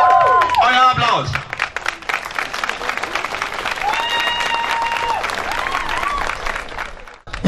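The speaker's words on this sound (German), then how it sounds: "Euer Applaus." A crowd applauds steadily throughout, dense clapping filling the space at a fairly loud level, with a few voices and whoops mixed in.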